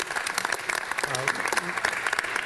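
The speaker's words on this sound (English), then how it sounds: "Round of applause" An audience at a county general plan public meeting applauds its panelists, a dense, steady burst of many hands clapping throughout, with voices faintly underneath.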